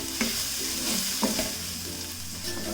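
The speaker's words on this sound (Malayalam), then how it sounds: "ടീസ്പൂൺ ഗരം മസാല പൊടിയും കൂടിയിട്ട് ഇത് ഇളക്കി കൊടുക്കാം" Garam masala, coriander powder and roasted fennel powder stirred in a hot pan on the stove: a steady close sizzle of frying spices with a few soft scrapes of the spoon, no voices.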